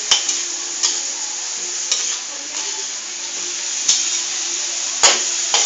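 Food sizzles in a pan while being stirred, with a steady frying hiss broken by sharp scraping clicks of the utensil against the pan every second or so, close and clear.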